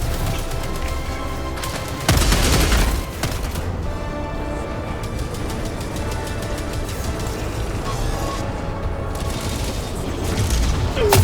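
Grenade blast in Helldivers 2 amid a combat scene: a heavy boom about two seconds in, surrounded by dense rapid gunfire and rumbling battle noise that continues loudly throughout.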